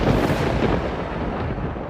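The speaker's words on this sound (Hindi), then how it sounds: "तभी एक तेज बिजली कड़की" A loud thunder clap from a lightning strike hits as a sudden heavy boom, then a dense crackling roar that stays strong for about two seconds, with no voices.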